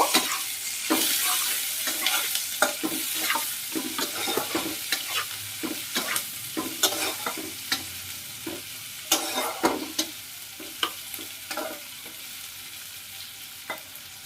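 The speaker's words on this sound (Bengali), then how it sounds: "দিয়ে দিচ্ছি পেঁয়াজ কুচি, এটা দিয়ে হালকা একটু ভেজে নেব" Chopped onion frying in a pan crackles and sizzles loudly and close, broken by frequent sharp clacks and scrapes of a spatula stirring against the pan.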